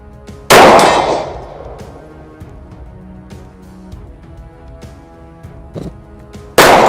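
Two loud pistol shots several seconds apart at a steel plate target 50 meters away, the first ringing out with a long echoing decay, and faint metallic ticks between them.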